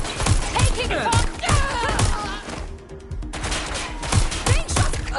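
Repeated gunfire bursts and thuds in a Watch Dogs: Legion firefight, loud and rhythmic, with a brief lull midway before the shots resume, under voices talking.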